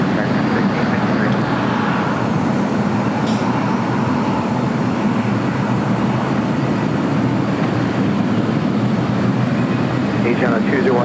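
Jet airliner taking off from runway 25 right at LAX, a loud steady roar of engines holding throughout, broad and continuous with no break.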